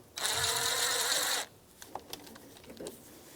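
A ratchet on a 2004-2009 Subaru Outback snugs up the oil pressure sender: a brisk, close mechanical whir lasting just over a second, then a few faint scattered clicks and clatters.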